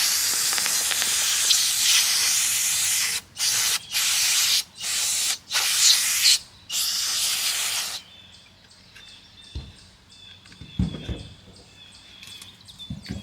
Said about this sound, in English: Brake cleaner, good for carburetors.